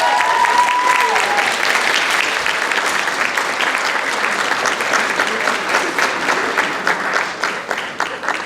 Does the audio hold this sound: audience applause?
yes